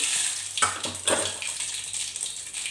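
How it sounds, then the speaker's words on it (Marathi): Mustard seeds hit hot oil in a pot and sizzle loudly and steadily, with a couple of brief sharper bursts of crackling and spatter close by. "तर इथं तेल गरम झालं तर मी त्याच्यामध्ये आता मोहरी टाकते"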